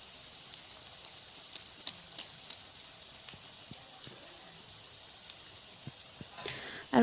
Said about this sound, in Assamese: এইখিনি এতিয়া মই ভালদৰে 2 মিনিটমান ভাজি ল'ম অলপ সময়ৰ কাৰণে